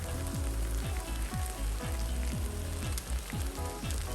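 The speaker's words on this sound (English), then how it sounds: "Okay guys, I'm adding another egg inside." Egg frying in a hot wok while Mee Goreng Mamak is made, giving a loud, steady sizzle and crackle throughout with no talking.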